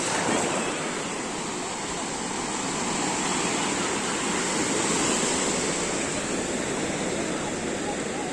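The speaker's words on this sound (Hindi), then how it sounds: "लहरें बहुत ऊपर तक आ रहे" Ocean waves wash continuously onto Suryalanka beach in a broad, steady roar of surf with wind buffeting the microphone throughout.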